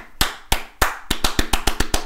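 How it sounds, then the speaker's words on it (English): An EDM clap build: sharp, punchy electronic claps, first spaced about a third of a second apart, then quickening into a faster even run of hits, loud and upfront with no voices. "clap build style production that you hear in a lot of EDM music"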